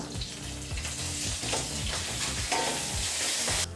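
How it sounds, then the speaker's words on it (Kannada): Curry leaves dropped into hot oil with green chillies for khara pongal, a loud continuous frying sizzle with crackles and stirring scrapes, close and steady. "ತದನಂತರ ಈಗ ನಾವು ಕರಿಬೇವಿನ ಸೊಪ್ಪನ್ನು ಸಹ ಸೇರಿಸ್ಕೊಳ್ಳೋಣ."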